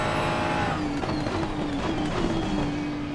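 Race car engine droning steadily in a sim racing game at Spa-Francorchamps, with a low-grip Ferrari on underinflated tyres sliding and skidding; the engine tone holds continuous and fairly loud throughout, with tyre scrub mixed in.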